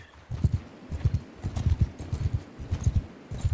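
Steady galloping hoofbeats in the video game Mount & Blade II: Bannerlord thud in a fast, rhythmic pattern, moderately loud and close, with little else around them.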